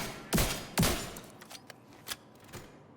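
Scorpio shotgun in the video game The Division 2 firing two loud, booming blasts in quick succession, followed by fainter impacts and clicks.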